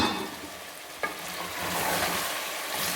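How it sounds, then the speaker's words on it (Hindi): Chicken pieces frying in a pan for biryani, a soft continuous sizzle with a single brief scrape or clink near the start, no voices. "ये 3 से 4 मिनट हो चुके हैं हमारे ये चिकन फ्राई होते हुए।"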